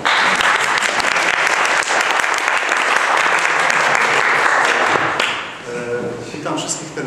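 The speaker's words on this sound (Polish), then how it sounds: "Tutaj może jakieś oklaski." A lecture audience claps for a Thursday evening talk on satellite attitude control, a dense, steady burst of applause lasting about five seconds before it thins out and fades.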